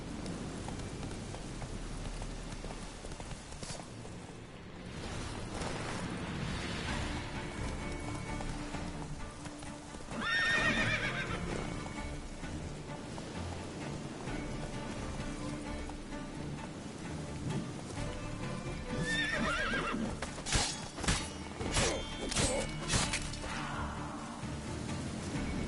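Roach the horse clip-clops in The Witcher 3, hooves beating rhythmically over a long stretch amid rain-like ambience and game effects, with brief louder bursts midway and toward the end.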